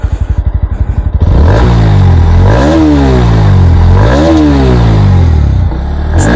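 A 2024 Bajaj Pulsar NS160 motorcycle idles with a quick, thumping putter, then is revved hard twice, the engine climbing to a loud, close whine and falling back between revs.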